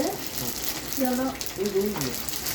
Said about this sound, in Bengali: ফুচকা তেলের মধ্যে গরম তেলের মধ্যে ছেড়ে দিলে কেমন করে দেখেন